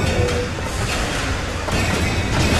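Rocket explosions in BioShock Infinite, loud, dense booming crashes with rumbling thuds packed back to back and no pause between them.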